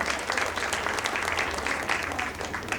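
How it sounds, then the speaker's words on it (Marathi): Audience clapping at the opening session of a Bapat family clan gathering, steady dense applause from a sizeable crowd filling the whole stretch without talk over it. "पुन्हा एकदा टाळ्या"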